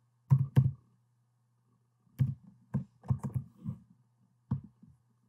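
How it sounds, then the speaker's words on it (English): A password typed on a computer keyboard, with a few sparse, close key clicks in small clusters over a low steady hum. "So, I'm going to type in my password here."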